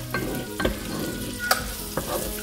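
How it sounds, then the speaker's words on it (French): Onion and crushed garlic cooking in oil in a pan, a steady soft sizzle broken by a few sharp scraping stirs, close and moderately loud, with no talking. "là je fais revenir de l'huile avec un oignon et 4 gousses d'ail que j'ai écrasées"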